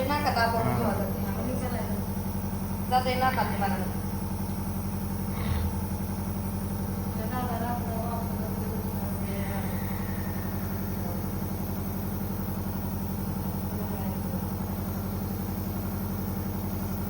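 A vehicle engine hums steadily while driving, a constant low drone running beneath a person talking throughout.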